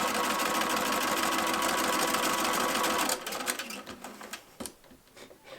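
A sewing machine stitches a tote bag in a rapid, loud, steady mechanical rattle for about three seconds, then stops, leaving soft handling clicks and rustles.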